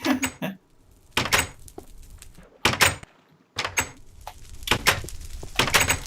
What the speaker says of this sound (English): Eventually I'll get used to the doors.